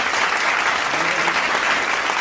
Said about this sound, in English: Let's have a big round of applause for Ms.